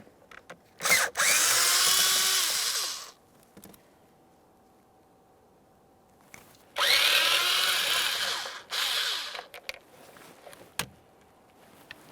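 A power driver backs out two Phillips screws from interior trim on a 2008-2017 Mitsubishi Lancer, two separate loud whirring bursts of about two seconds each with small clicks between, close up.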